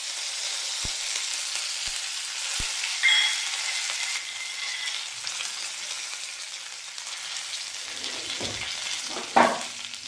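Mustard seeds and curry leaves sizzle in hot oil, a steady, close hiss of frying with a few sharp taps early on and a stirring clatter near the end.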